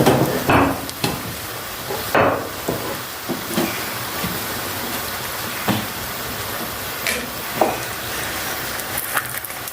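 Fellah köfte, bulgur meatballs, frying in a pan give off a steady close sizzle. Sharp clatters and scrapes break through it now and then, with no voices.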